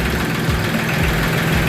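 A three-cylinder Massey Ferguson 6028 tractor engine idles steadily with a low, even diesel rumble and a faint knocking pulse, close by and alone.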